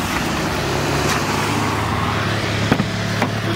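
A Mazda RX-7 is on the move, its engine humming steadily and close with constant road noise and a couple of faint knocks, and no talking over it.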